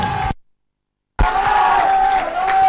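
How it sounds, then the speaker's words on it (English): A crowd of school supporters at the S. Thomas' College vs Royal College match roars loudly as Royal College takes the field, a sustained wash of cheering that cuts out briefly before surging back at full volume. "as you may be able to hear, the crowd supporting the schools as Royal College has just made their way to the field"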